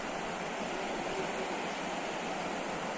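Water rushing through the raised gates of Sadarmat Barrage, a dense, continuous roar at steady loudness with no voices.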